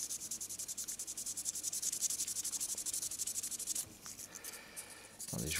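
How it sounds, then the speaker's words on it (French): Fine sanding of a 1/24 Ebbro Citroen DS 19 model kit part near the fuel tank seam, a steady close rhythmic scratching that stops briefly near the end before resuming, with no talk. "Attendez, je vous ponce ça correctement."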